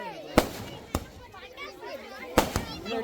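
Firecrackers burst in sharp, loud cracks, a few separate pops spaced irregularly over a few seconds, with people talking and calling out in the background between bangs.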